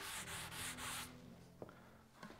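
Rhythmic back-and-forth rasping of sandpaper on a sanding block over black oak, three strokes in quick succession, followed by a couple of soft knocks in a quiet room.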